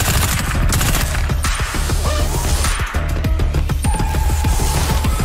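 Rapid gunfire on a firing range in a Call of Duty Ghosts pre-order bonus map, loud and relentless, with dense overlapping shots and sharp cracks repeating throughout.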